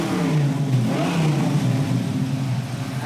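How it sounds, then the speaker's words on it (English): A 1969 Camaro engine runs steadily up close, a low rumbling idle with slight waver in pitch. "That idle sounds good."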